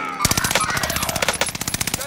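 Rapid automatic small-calibre gunfire in Call of Duty: Warzone on Rebirth Island, loud close bursts of fast regular shots running nearly the whole time.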